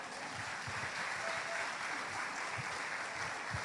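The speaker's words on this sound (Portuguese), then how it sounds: "palmas para ela." An audience claps at a street ministry event, a steady, moderately distant patter of many hands sustained throughout without letting up.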